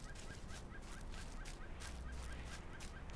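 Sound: bird struck in video game Lord of the Rings Online

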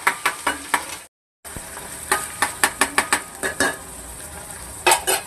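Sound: spice paste roasting in oil

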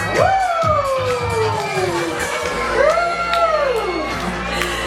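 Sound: young children cheering in front of the stage

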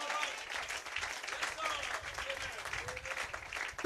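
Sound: applause

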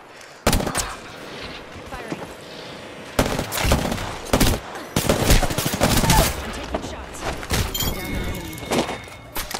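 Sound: gunfire in video game Apex Legends

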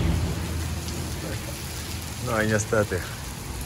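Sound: rain in the mountains

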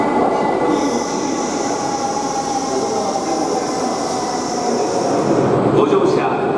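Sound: Kamome Shinkansen train at a station platform

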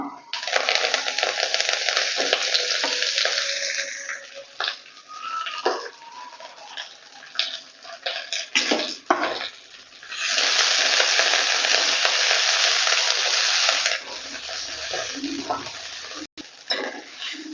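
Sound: sautéing gongura (sorrel) leaves in a pan

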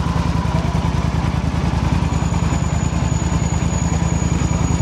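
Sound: Yamaha Super Tenere motorcycle engine idling

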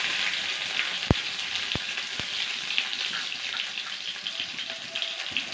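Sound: onion and chili frying in pan

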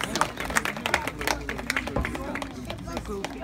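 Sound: applause from wedding guests

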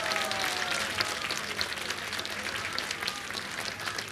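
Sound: audience applause for dancers

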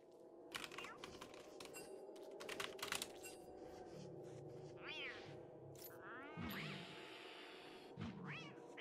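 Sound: catcoon meowing in frog battle, video game Don't Starve Together

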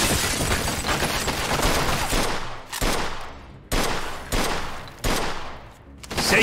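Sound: gunfire in the video game Mafia II

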